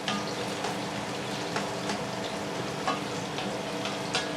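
Shallots and chorizo fry in oil in a pan for a chorizo, chicken and bacon pasta, giving a steady close sizzle with small crackles and pops throughout, no voices.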